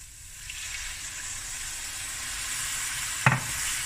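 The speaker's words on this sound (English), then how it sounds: "Now I'm going to add a bit of water." Water poured into a hot pan of sizzling prawn curry base with honey and black pepper, a steady loud frying hiss throughout, then a sudden splash and surge of sizzle near the end.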